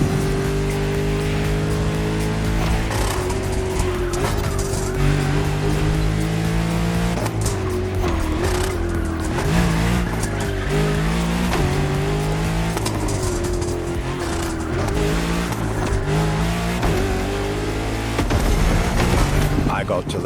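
A Genty Akylone hypercar, a French luxury machine, drives in The Crew Motorfest, its engine droning steadily and shifting pitch throughout, with occasional tire sounds under music-like layering.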